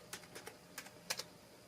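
Code tapped out on a computer keyboard while following a Kano coding tutorial, with about ten quick, light key clicks in uneven bursts and no voices.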